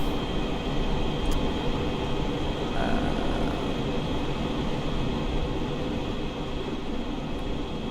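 Constant rumbling drone of a train running in Train Simulator on the North Pole Railway, steady and fairly loud throughout, with a faint brief tone partway through.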